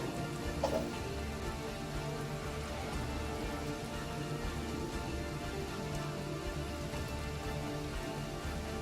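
Steady rain falling in the fantasy role-playing game Divinity: Original Sin, a constant even hiss of drops on the ground with no break, moderately loud and unaccompanied by voices.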